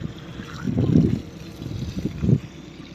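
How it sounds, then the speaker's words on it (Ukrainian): Water pours in uneven bursts from a tractor-drawn cubic-metre tank into freshly dug planting holes for a new orchard. Low splashing and gushing rise and fall against a steady outdoor background, with no talking. "Ми їдемо, влиємо в кожну ямку гарненько водички."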